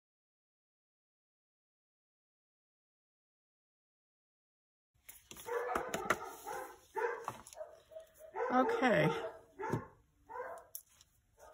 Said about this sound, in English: My dogs are having a fit because somebody came to the door.